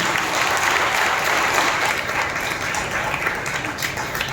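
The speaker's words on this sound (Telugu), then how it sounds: "నమ్మిన వాళ్ళందరూ బిగ్గరగా చప్పట్లు కొట్టి ప్రభువును మహిమపరచండి." A church congregation claps loudly and continuously, a dense, even wash of applause that fills the whole stretch.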